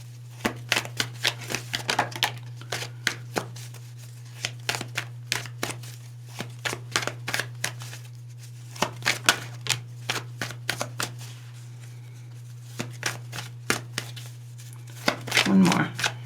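Tarot cards are shuffled in quick, crisp riffling bursts, close by and fairly quiet, with short pauses between runs, over a constant low electrical hum.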